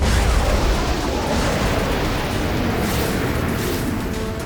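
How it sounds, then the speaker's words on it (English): Cartoon-style launch of computer-controlled surface-to-air missiles, a loud, dense roaring blast that rushes on steadily throughout with no voices over it. "Prepare to launch computer-controlled surface-to-air missiles."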